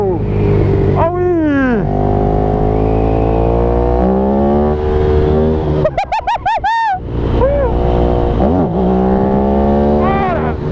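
A Ducati Streetfighter 1098 S motorcycle, 160 hp, roars up through the gears, loud rising engine pitch with quick shifts and a sharp high-rev burst, heard close from the rider's position over wind noise.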